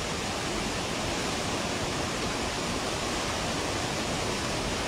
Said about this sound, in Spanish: Voy a enfocar nuevamente el río. Mire, se ha vuelto caudaloso en estos momentos